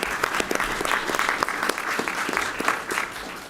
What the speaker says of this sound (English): Another round of applause for our outstanding recognitions this month